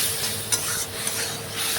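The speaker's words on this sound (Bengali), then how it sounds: "জল দিয়ে একটু মশলাটা ভেজে নেব" Spice paste fries with a splash of water in a pan for a sour fish curry with lemon, giving an even bubbling sizzle with occasional light clicks of stirring.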